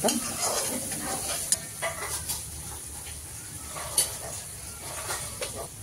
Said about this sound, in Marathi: त्याच्यामध्ये आपलं जे आपण आलं, लसूण आणि मिरची वाटलेली आहे त्याची पेस्ट आपण परतून घेणार आहोत